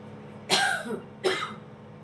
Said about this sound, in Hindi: सॉरी, थोड़ी खांसी आ गई थी।